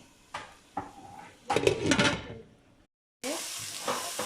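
Onions sizzling in a pot for a vegetable soup, stirred with a utensil that knocks and scrapes against the metal, then a brief gap and a steady sizzle that resumes.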